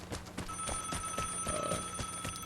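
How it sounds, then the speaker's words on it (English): A phone rings faintly in the background with a steady tonal ring over rapid clicking game sounds. "That's my own phone ringing."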